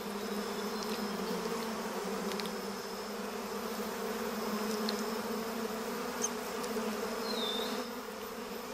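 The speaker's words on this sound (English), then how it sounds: "the bees industriously collect from flowers" A dense swarm of giant honey bees collecting from flowers hums steadily and continuously throughout, a thick, even buzzing with a few brief higher insect whines passing close by.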